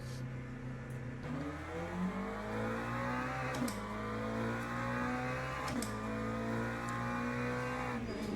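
A McLaren race car in a racing video game at Bahrain revs through a run of rising engine pulls, each ending in a sharp gear-change cut, a continuous loud engine drone with no talk.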